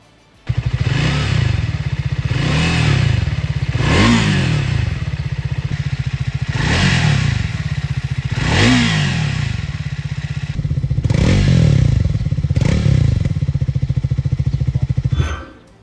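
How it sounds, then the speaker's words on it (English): A loud Triumph Speed 400 motorcycle engine roars close by while riding, revving up and down repeatedly as gears shift, the exhaust droning throughout. "Components inside the engine and the exhaust are working together to create a symphony."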